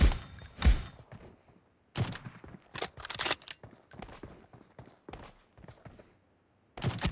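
Sharp single rifle cracks from an M24 sniper in the mobile shooter BGMI, several spaced shots with short thuds and quiet gaps between, loud and close, with no talk.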